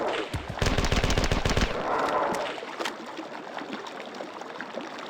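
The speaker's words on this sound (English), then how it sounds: "So I have a clip full of grenades that I can launch out of here." A grenade launcher fires in the Marathon 2: Durandal video game, with a fast, loud burst of repeated shots for about a second, then a rushing noise and a trailing rumble, with no talk.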